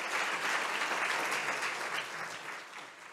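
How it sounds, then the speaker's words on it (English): Audience at a Florida Oceanographic coastal lecture on wetland conservation applauds steadily, a dense wash of many hands clapping together that tapers slightly toward the end. "let's give Jeff a big round of applause."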